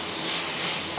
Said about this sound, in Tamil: இது கொஞ்சம் நேரம் வதங்கட்டும்.